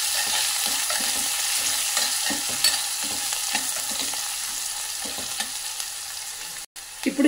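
Turmeric and asafoetida are stirred into hot oil with pounded garlic for a mango-ginger pickle, giving a steady close sizzle with soft, repeated scraping strokes and a brief dropout near the end.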